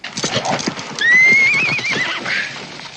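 A horse whinnies loudly and close, a long rising-and-falling neigh, over steady clip-clopping hooves in a Western frontier setting, with faint background movement.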